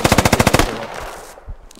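An MG5 machine gun fires a rapid, loud burst of about ten evenly spaced shots in the tactical shooter game Squad, then cuts off into a fading echo tail with a faint thump.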